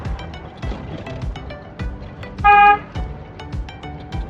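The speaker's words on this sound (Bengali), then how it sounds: "হর্ন দেন প্রাইভেট কারটারে আসতে দেন" A single short car horn honk sounds midway on a highway, loud and clear over steady road noise and a rhythmic ticking.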